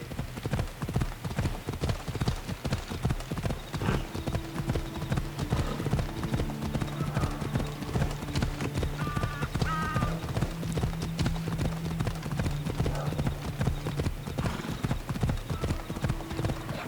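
Horse hooves clip-clop steadily as a horse climbs a hill in Assassin's Creed Odyssey, a continuous rhythmic patter close by over low game ambience, with faint snorts or whinnies mixed in.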